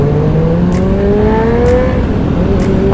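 A sport motorcycle engine, a Kawasaki ZX 250cc, drones steadily nearby, its pitch slowly climbing as it accelerates, loud and continuous with no talking.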